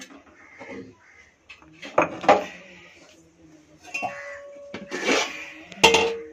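Metal clinks and clatters of a pressure cooker weight being lifted off and the steel pot being handled after cooking ghee rice, several sharp knocks spread over a few seconds at close range, with no talk.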